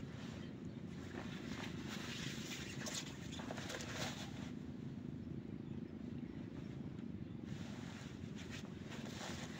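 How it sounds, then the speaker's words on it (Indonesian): Birds call outdoors at a quiet fishpond, with soft cooing notes over a constant low rumble of wind or distant engine noise. "Burungnya banyak."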